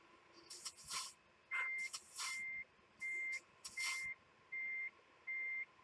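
A truck backs up in Euro Truck Simulator 2, with a steady series of about six evenly spaced reversing beeps mixed with short bursts of air hiss, at moderate loudness and without talk.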